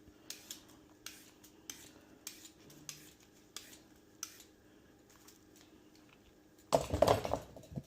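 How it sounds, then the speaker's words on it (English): A knife peels the skin off cucumbers in a quiet kitchen, making a series of short, evenly spaced scraping clicks, close and soft, ending in a louder clatter of handling. "While I'm cutting up, taking the skins off my cucumbers"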